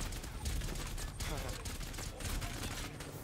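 Rapid gunfire bursts from a first-person shooter match in a competitive qualifier, dense and continuous across the clip and mixed with game effects, with a voice talking briefly underneath.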